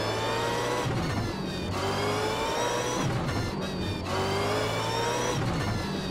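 Supercars V8 race cars on the formation lap in the racing game Automobilista, engines droning loud and constant with rising and falling revs as gears shift repeatedly, no talk.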